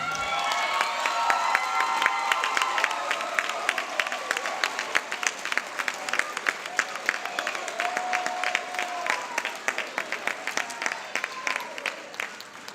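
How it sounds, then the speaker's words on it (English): A large audience of parents and family at a 2016 high school graduation ceremony applauds steadily for the whole stretch, dense clapping with scattered cheers and children's shouts, loud and continuous. "give yourselves a round of applause"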